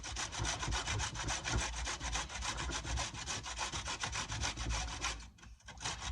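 A vegetable is grated by hand in a home kitchen, giving a fast, steady series of close, rasping scrapes in an even rhythm that stops briefly near the end, then resumes.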